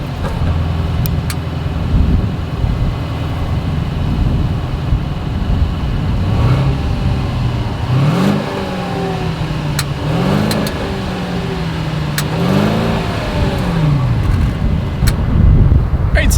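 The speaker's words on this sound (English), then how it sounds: "As always, here is that exhaust clip." A 2022 Mercedes-Benz S 580 exhaust revved several times, engine roars rising and falling in repeated bursts with wind buffeting the microphone.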